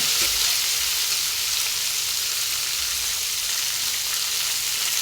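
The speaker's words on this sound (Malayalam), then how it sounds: "നമുക്ക് നന്നായിട്ട് കുഴഞ്ഞ് കിട്ടുന്ന രീതിയിൽ മൂപ്പിച്ചെടുക്കണം" Chicken curry masala sautéing with onions in a pan, a steady loud sizzle and crackle of frying that runs without a break, with no voices over it.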